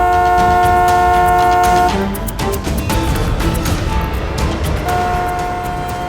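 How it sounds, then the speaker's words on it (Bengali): A vehicle horn blares in traffic, one long steady blast that cuts off, then a second sustained honk after a stretch of noisy road rumble, close and loud with no talking. "একটু হর্নটা বাজাও"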